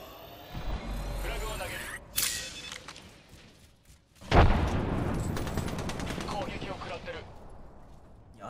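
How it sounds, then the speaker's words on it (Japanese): Gunfire rattles in the video game Apex Legends: bursts of automatic fire keep going under other game sounds, with a sharp loud crack midway that is followed by dense continuous shooting. "敵に撃たれてる。"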